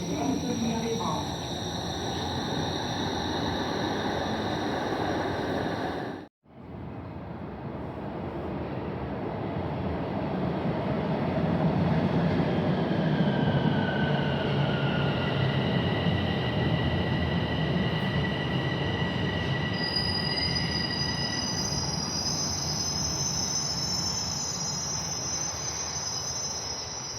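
A Toronto TTC subway train in motion, its loud rumbling wheels rolling continuously, with a brief cut early on and tonal squeals rising later over the steady roar.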